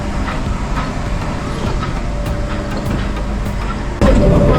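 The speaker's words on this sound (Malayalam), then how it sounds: "ഭയങ്കര പതുക്കെയാണ് കേട്ടോ നമ്മുടെ ട്രെയിൻ പോകുന്നത്." The Ooty toy train creeps slowly uphill with a steady rumble, rattle and faint clatter heard from on board. A louder burst of rolling noise rises near the end.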